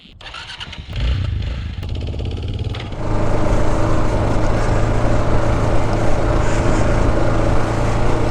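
A Kawasaki KLR 650 dual-sport motorcycle starts up close by, catching after a few seconds of cranking, then settles into a loud, steady idle with a deep, even thump.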